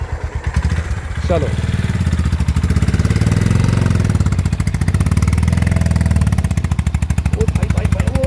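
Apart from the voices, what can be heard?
Honda CB 350 motorcycle pulling slowly in fifth gear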